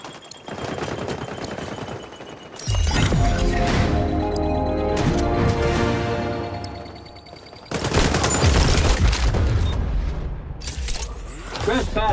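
Grenades burst amid rapid gunfire in the shooter game XDefiant, with heavy booms and rattling automatic fire arriving in two loud waves separated by a brief lull.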